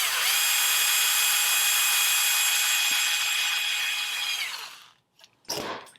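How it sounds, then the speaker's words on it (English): Steady high-pitched whir of a power driver running continuously for about four seconds while screws go into a pickup ring on a PRS S2 McCarty 594 guitar during humbucker installation, then cutting off into brief faint handling clicks. "we're going to put the screws on the front side and the short side of the pickup ring"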